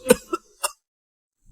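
A man coughs violently in three short, harsh, close bursts, followed by silence.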